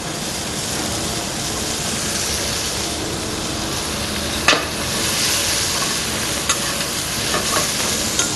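Vegetables and carrots sauté in a hot pan, giving a steady, close broadband sizzle with occasional sharp clicks of a utensil against the pan.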